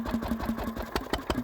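A governor-controlled steam engine runs steadily with a fast, even chuffing pulse of about five or six beats a second, close by, and a faint tonal hum beneath the rhythm.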